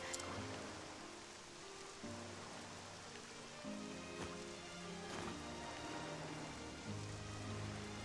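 Steady, dense rainfall in the role-playing video game Octopath Traveler II, a continuous close hiss of drops under soft sustained game music tones.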